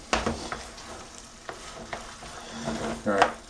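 Cordon bleu casserole mixture frying in a hot pan, with steady crackling sizzle and scattered sharp pops and snaps, some louder bursts near the end, close up with no talking.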